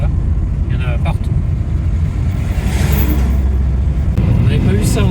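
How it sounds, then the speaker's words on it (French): Coca-Cola delivery trucks and other traffic drive a road in Mexico near Bacalar, a continuous loud engine rumble with vehicles passing close by, and a voice speaking now and then. "Regardez, les camions Coca-Cola, il y en a partout."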